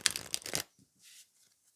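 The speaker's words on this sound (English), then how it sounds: "So let's just shuffle the cards like this." Tarot cards are riffled in one quick, close flurry of papery flutter and snapping, followed by a faint soft slide and near silence.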